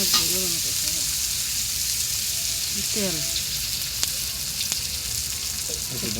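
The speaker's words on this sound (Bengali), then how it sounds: "আগে লাল লাল করে ভাজবো" Ingredients fry in hot oil for egg khichuri, giving a loud, steady, close sizzle throughout with a few faint clinks and brief muffled voices in the background.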